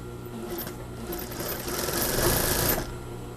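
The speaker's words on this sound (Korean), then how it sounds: "한번 박음질 해 보겠습니다." A sewing machine runs steadily, stitching a seam along a marked line on a blouse being remade from old clothing. The motor whirs and the needle ticks rapidly, building slightly louder in the middle before stopping.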